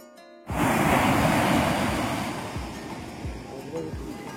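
Sea waves wash onto a beach in a continuous roaring rush that starts abruptly after a brief quiet, then eases slightly with low thumps of surf and some wind buffeting.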